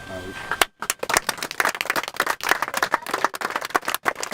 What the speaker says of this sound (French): je voudrais d'abord saluer le conseil municipal des enfants, qui mérite nos applaudissements.